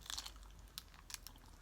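Shrimp nachos are crunched and chewed close to the mic during a mukbang, with a few crisp bites over soft, steady mouth noise.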